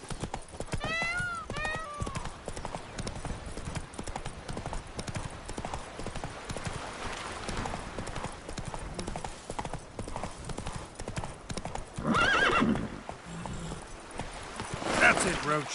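Roach the horse galloping in The Witcher 3: Blood and Wine, rapid rhythmic hoofbeats close up with a brief whinny, under a man's occasional exclamations and other game sounds.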